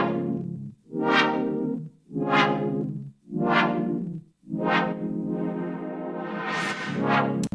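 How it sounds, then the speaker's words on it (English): Doubled Juno synth chords, panned wide, swell in five or six sustained pulses with sharp attacks and brief gaps between them, loud and bright, the last chord held longer with a shimmering sweep. "We got this doubled Juno chords going on."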